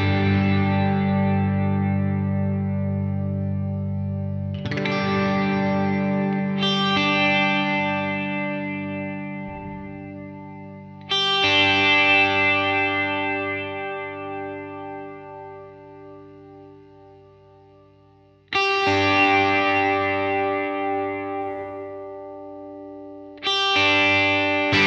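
Sustained guitar chords through a Line 6 HX Stomp or Helix reverb ring out in a wash of shimmering, modulated reverb, each new strum swelling and slowly decaying into a long tail.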